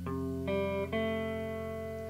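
An electric guitar plays the four notes of a riff, the tones changing in quick succession and the last one left ringing clean and clear. It plays alone at a modest level.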